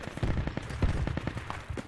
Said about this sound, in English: How did that bullet land behind me?